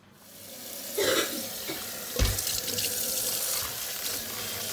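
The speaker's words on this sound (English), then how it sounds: "Washing off this cabbage some more." Running tap water pouring into a kitchen sink while cabbage is washed, a steady close hiss with splashes and a couple of louder thumps as the leaves are handled.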